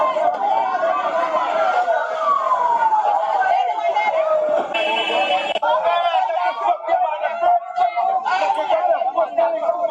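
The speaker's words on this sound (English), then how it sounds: "So hearing the siren" A wailing siren rises and falls over a busy crowd with loud chatter and voices nearby.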